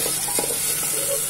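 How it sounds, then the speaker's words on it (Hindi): Potatoes and soaked basmati rice roast in a pan, a short burst of steady hissing sizzle with faint scraping from stirring, close by and without speech. "इसको भूजेंगे हम बटाटे को भी थोड़ी देर के लिए, और ये चावल को भी हम भून देंगे अच्छे से"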